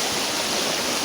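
Floodwater from last August's flood rushes steadily past at about waist depth beside a damaged road, a loud, unbroken roar of flowing current with no voices.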